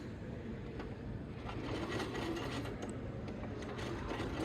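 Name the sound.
sewing machine stitching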